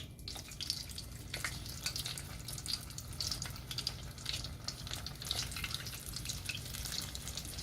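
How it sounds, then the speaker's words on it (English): Steady crackling sizzle of cheeseburger egg rolls deep-frying in hot oil in a pot, continuous and close, with a low hum underneath and no talking. "y'all can hear that sizzle"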